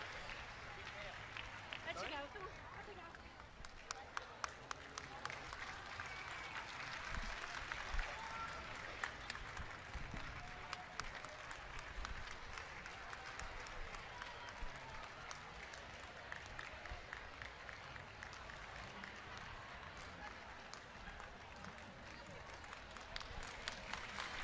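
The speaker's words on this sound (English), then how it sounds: "Please give a big round of applause to Loretta and Jackson." An audience at a Purina Pro Plan dog dancing exhibition claps steadily, a sustained patter of applause and crowd noise at a moderate distance lasting the whole stretch, with an announcer's voice over it.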